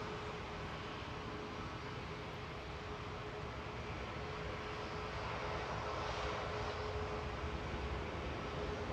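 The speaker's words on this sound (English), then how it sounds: "MAX 8 lining up for Ryanair to Malta now, flight 5209" A Ryanair Boeing 737 MAX 8 lining up for takeoff at Manchester Airport, a continuous roaring jet engine drone with a steady whine, moderately distant and swelling slightly toward the end.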